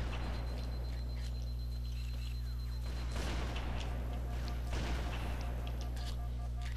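Gunfire in Halo multiplayer, a few scattered muffled shots and thuds over a constant low hum, with a person talking now and then.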